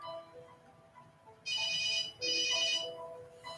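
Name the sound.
cell phone ringing in blast test chamber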